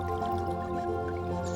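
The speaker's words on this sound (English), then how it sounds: "with water bubbling out from the top of this stone" Water bubbles and trickles from the top of a stone water feature in a Vienna cemetery, a close, steady dripping flow; a low tonal hum sits beneath it throughout.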